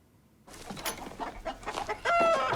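Clucking chickens in a farmyard, a few short scratchy calls rising into a louder squawk at the end, fairly close with faint background rustle.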